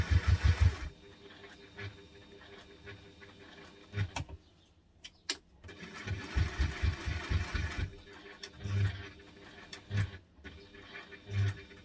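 A sewing machine stitches a box onto white fabric in several short bursts of close, rapid mechanical whirring, separated by quiet pauses and small clicks, with no speech.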